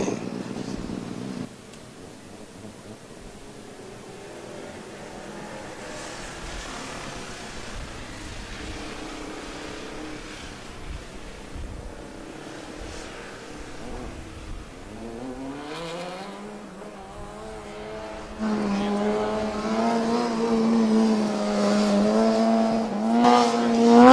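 Formula Student combustion race car from Coburg running the skidpad, its loud engine revving and climbing in pitch as it accelerates, growing louder toward the end.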